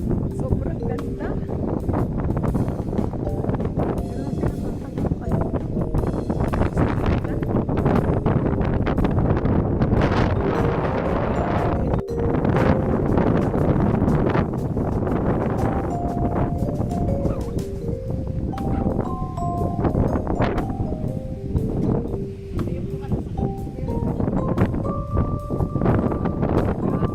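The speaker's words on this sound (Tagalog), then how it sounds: "Lakas ng hangin." Strong gusts buffet the microphone at a hilltop lettuce farm in Bataan, a constant loud roar that lasts throughout while people talk and a faint melody plays in the background.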